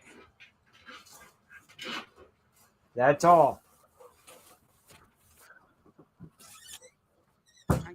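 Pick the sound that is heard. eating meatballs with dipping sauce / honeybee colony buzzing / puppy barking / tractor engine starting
puppy barking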